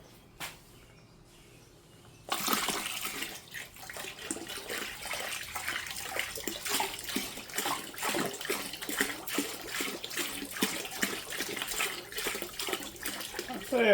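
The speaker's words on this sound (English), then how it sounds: "I'm gonna get some more Jumex and put in here." Jumex mango juice pouring into a moonshine mash, a continuous splashing liquid stream close up that starts abruptly and runs steadily to the end.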